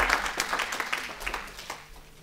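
A church congregation applauding during a sermon, a brief dense burst of many hands clapping that fades slightly toward the end, with faint voices mixed in.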